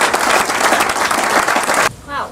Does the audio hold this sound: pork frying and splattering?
no